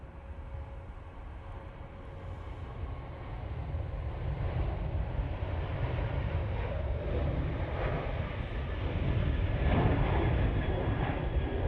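A TUI airliner passing at Manchester Airport, a steady broad jet roar that holds loud throughout and swells slightly toward the end, with no voices over it.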